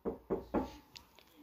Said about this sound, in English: I wonder who's at the door.